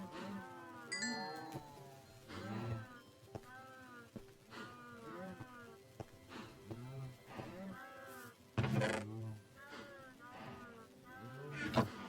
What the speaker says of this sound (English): I feed the cows again.